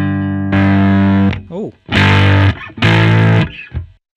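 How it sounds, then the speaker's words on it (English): Bass guitar through a grainy distortion effect on a Headrush amp modeler, played as long sustained buzzing notes with short gaps and a slide between them, loud and close, with a brief spoken exclamation. "It's a very grainy distortion."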